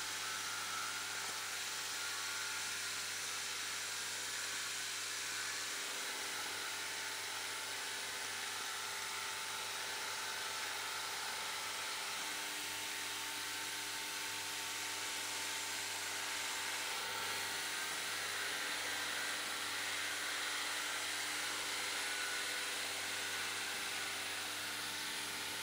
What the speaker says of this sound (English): I'd highly recommend using a centre drill as a milling bit